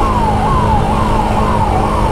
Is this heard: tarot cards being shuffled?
no